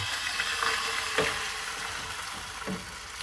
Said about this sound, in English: I'm going to oil the pan again, and then I'm going to put some more omelette mixture onto the pan.